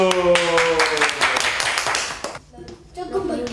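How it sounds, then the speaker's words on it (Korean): Elementary schoolchildren in a small rural branch-school classroom clap for a newly transferred second-grader, a brisk patter of small hands over and around children's voices, fading briefly before more sound returns. "박수"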